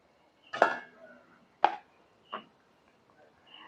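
A knife cutting small portions of potato kachuri dough on a board, three or four distinct soft thuds spaced irregularly, close and quiet, with no talking.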